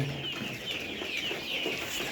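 Nourish pullet layer chickens at about 67 days old, kept in an open-sided shed in winter, give off soft, scattered clucks and murmurs against a steady farm background, fairly faint and continuous.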